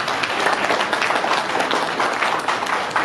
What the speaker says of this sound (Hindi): उनके लिए बेशुमार तालियां हो जाए